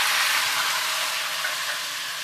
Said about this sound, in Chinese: 油热以后下入豆腐